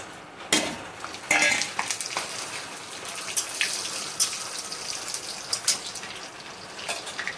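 Whole garam masala, bay leaf, cumin and chillies tempering in hot mustard oil for a rustic chicken dish, a crackling sizzle punctuated by sharp clanks of a utensil against the pan.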